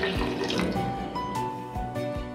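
Water runs and splashes steadily into a cooking pot for fish biryani, a continuous pouring gush with faint clinks, close by with no talking.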